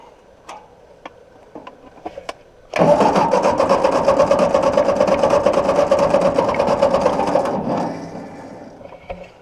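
The engine of a 1954 Ford Golden Jubilee NAA tractor cranks with the choke on. A few soft clicks come first, then a loud, steady cranking churn lasts about five seconds before it stops.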